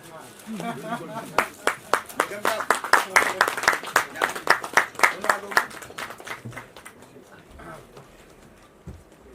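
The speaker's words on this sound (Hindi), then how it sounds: "जोरदार तालियां हो जाएगी।" Sparse rhythmic clapping from a small audience at an event, loud individual claps building to a steady beat with speech over it, then fading out.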